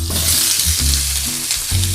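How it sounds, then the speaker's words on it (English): Beef tenderloin and asparagus sizzle loudly and continuously in a hot stir-fry pan, with a bright hiss over low pan rumbles and no talking. "So what we do next is put in our beef tenderloin, like so. And at the same time, we also put in our asparagus to our pan."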